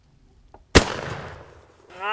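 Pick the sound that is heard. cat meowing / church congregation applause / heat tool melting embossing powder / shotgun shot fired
shotgun shot fired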